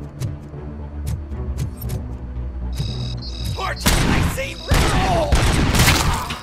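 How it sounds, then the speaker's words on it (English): A grenade bursts in RoboCop: Rogue City, a loud broadband blast that cuts in suddenly and is followed by a second heavy impact, after a stretch of scattered gunshots and game rumble. "that guy threw a grenade"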